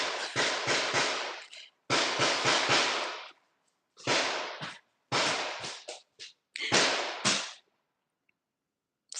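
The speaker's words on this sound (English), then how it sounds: "My neighbor's popping off his gun." Neighbor's gunshots heard from indoors, a series of sharp cracks in quick clusters of two to four with short pauses between, fairly loud, followed by silence.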